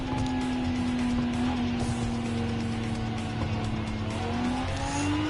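Hypercar racing in Gran Turismo 7, a loud sustained engine whine holding steady and climbing slightly at the end, with tire squeal underneath, no talk.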